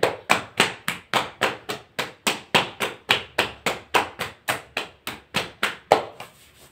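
Hands tap rhythmically on a body from knee to thigh during a thapki massage, a steady series of about two dozen sharp slapping pats at close range, evenly spaced and fairly loud, with no talking.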